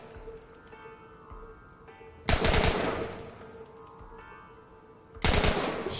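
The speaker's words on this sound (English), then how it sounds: "I shot him in the head twice, why isn't he dead?" Gunfire in The Last of Us video game: two loud, sharp bursts a few seconds apart, each followed by a decaying rattle, over a quiet background hum.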